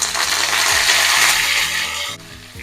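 Chilies and curry leaves fry in hot oil for tomato dal, giving a loud, steady crackling sizzle that drops to a softer level near the end, with low background hum and no talking.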